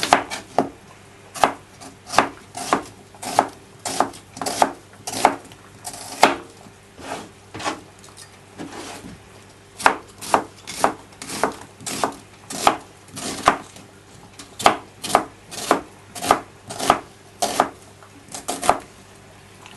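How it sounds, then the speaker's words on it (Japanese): Knife chopping onion into thick slices about 3 mm on a cutting board, a steady run of crisp, close, evenly spaced cuts with short pauses now and then. "3ミリぐらいに切っていきます。"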